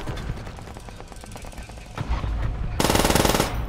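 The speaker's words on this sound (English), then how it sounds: "Ooh, the Browning. Holy shit, this is a really good gun." A Browning machine gun fires in a Call of Duty game, with rapid rattling bursts that build to a loud, sustained stream of shots near the end.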